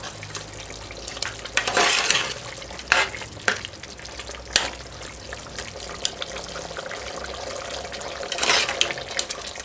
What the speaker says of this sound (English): So turn the stove up for the last 2-3 minutes and let's let it cook out.